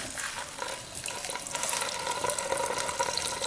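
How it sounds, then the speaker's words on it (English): Gasoline drains from a small engine's fuel tank after the carburetor is removed, a steady close trickling and splashing stream that runs continuously without pause. "It's draining out pretty quick."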